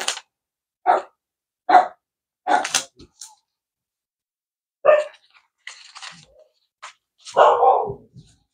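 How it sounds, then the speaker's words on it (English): Pet dogs indoors bark sharply at other dogs passing outside, several loud separate barks in an uneven rhythm, with some softer huffs and snorts between them. "There's dogs walking by, so my dogs are freaking out."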